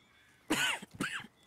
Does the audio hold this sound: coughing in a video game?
yes